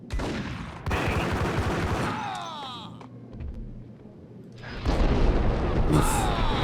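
Gunfire in the 2001 PC game Max Payne, dense rapid shots and booming impacts at close range in two heavy bursts separated by a quieter stretch, mixed with game effects and some voice.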